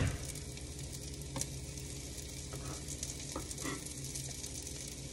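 Shallots and garlic sizzle in a buttered pan, a steady close crackle and hiss running evenly throughout with a few brief louder pops and no talking.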